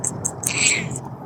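A cat at an eatery gives a short, high, thin meow that rises and falls over roughly half a second, heard close against a murmuring background.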